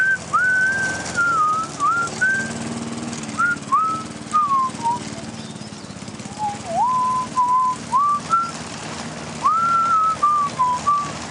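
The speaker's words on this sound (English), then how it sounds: "we'll just watch him do his thing and he just whistles for a while" A man whistles a meandering tune alone, a clear, bright melody of short rising and falling phrases broken by brief pauses, held steady and close throughout.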